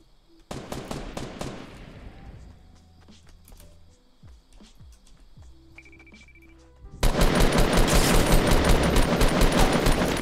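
Guns firing in a Fortnite solo match: a short rapid burst at the start, quieter scattered game sounds, then a loud sustained stream of fire near the end, with no talking.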